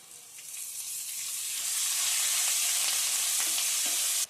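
Curry leaves hit hot tempering oil with asafoetida and spices for Andhra-style mango pulihora, setting off a loud, rising hiss of frying that swells within a second and holds steady, close and alone.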